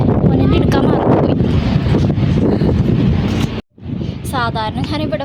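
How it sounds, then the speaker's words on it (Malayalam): Strong wind buffets the microphone outdoors on a trip in Saudi Arabia, a loud continuous rumble with a brief dropout near the end, while people talk. "നല്ല കാറ്റുണ്ട്."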